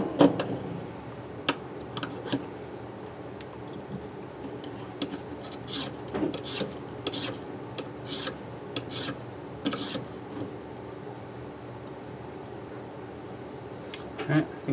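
Knife blade drawn across a ViperSharp diamond sharpening stone, repeated bright rasping strokes in irregular bursts, close and crisp, with someone talking quietly between strokes.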